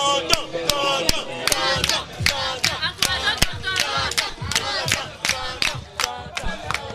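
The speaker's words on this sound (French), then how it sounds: "Est-ce qu'on va applaudir pour tonton Ndoa?" Community event crowd cheering and clapping for a storyteller, with loud sharp claps punctuating overlapping shouts and voices calling out in rhythm, close and lively throughout.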